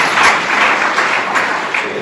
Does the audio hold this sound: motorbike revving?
no